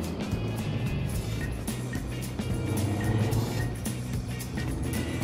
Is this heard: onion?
no